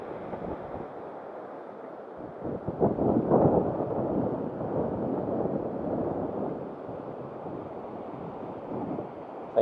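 Surf washing onto Seraya beach at Sepinggan Raya, Balikpapan, a steady broadband wash of waves mixed with wind buffeting the microphone, with one fuller swell of breaking water midway, no voices.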